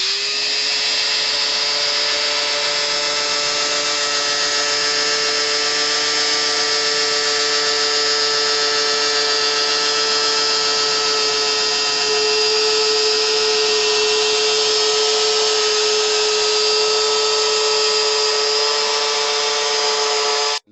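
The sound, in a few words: electric motor from an old screwdriver driving a worm gear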